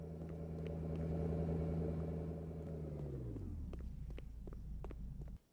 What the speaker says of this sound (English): I hear a car.